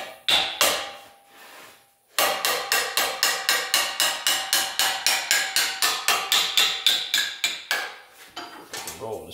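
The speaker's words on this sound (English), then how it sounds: "get your hammer, then work that edge" A hammer strikes the curved edge of a metal car panel as it is rolled over, a few blows, a pause, then a long fast train of sharp, ringing metallic hits, close and loud.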